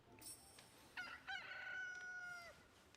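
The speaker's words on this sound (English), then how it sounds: "There's a rooster in the jungle?" A cartoon rooster crows in the video game Disney Dreamlight Valley, set in a jungle area. It gives one drawn-out, clear cock-a-doodle-doo of moderate loudness over faint background ambience, with no talking.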